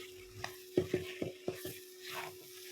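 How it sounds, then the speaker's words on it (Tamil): A spoon stirs goat intestine curry frying in a pan with coriander powder and crushed pepper, making about six quick scraping clacks in an uneven rhythm over a soft, faint sizzle. "மல்லித்தூள் நுணுக்குன பெப்பர் போட்டு விரட்டி விட்டுற வேண்டியது"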